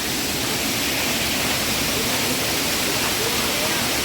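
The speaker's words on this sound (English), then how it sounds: "So the total combined waterfall of Manchui is around 125 meters" Manchewe waterfall in Malawi, about 125 metres high in total: a steady, loud, broadband rush of falling water, continuous and unbroken throughout with no clear voices over it.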